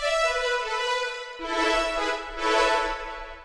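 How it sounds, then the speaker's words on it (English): A big synthesized string sound swells through sustained chords, shifting harmony twice, rich and full with a gentle rise and fall in loudness. "this is kind of like a big string sound that I found"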